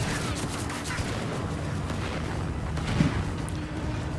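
Gunfire from a P-38 strafing run in the VR game Final Assault rattles as a dense, continuous barrage of booming, rumbling shots, loud and unbroken throughout.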